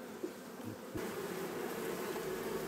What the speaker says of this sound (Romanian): Deja a ieșit o generație de albinuțe aici.